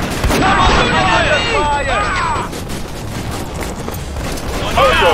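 Gunfire in the video game Raven Squad, a dense rattle of shots under shouted game voices, with chirpy effects in the first half and a steady battle din throughout.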